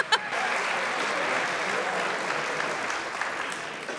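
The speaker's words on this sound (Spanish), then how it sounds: "¡Aplaudan, aplaudan!" Steady, enthusiastic applause from a concert audience in Spain, sustained clapping that holds at an even level throughout.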